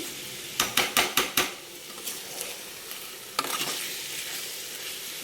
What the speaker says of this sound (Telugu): రొయ్యలు చక్కగా వేగిపోయినాయి